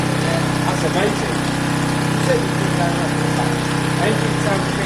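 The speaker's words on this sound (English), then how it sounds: "Engine sounds a bit loud." A motorcycle engine idles steadily with a low, constant rumble throughout, somewhat loud, while people talk over it.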